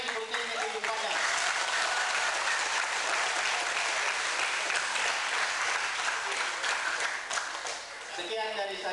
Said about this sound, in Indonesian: saya ingin mendengar tepuk tangan yang paling meriah untuk ayahanda kita yang di depan